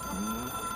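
A telephone ringing in the video game Control, a short, faint electronic ring with a sustained bell-like tone and no voices.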